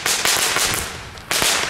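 A rapid burst of sharp pops from a bundle of category 1 firecrackers set off in a residential neighborhood, crackling together in a dense string of bangs followed by another loud crack a moment later.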